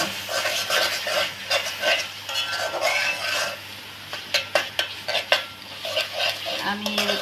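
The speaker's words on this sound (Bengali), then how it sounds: "কিছুক্ষণ মশলাটা কষিয়ে নিতে হবে" Masala being stirred and fried in a pan, a soft sizzle under rhythmic scraping strokes of a spoon, then a run of sharp metal clanks against the pan near the end, close up with no talk.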